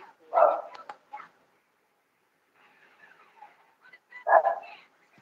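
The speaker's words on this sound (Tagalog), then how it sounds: "May aso." A dog barks in two short bursts, a near yelp at the start and another a few seconds later, with faint voices murmuring between them during a night livestream devotion.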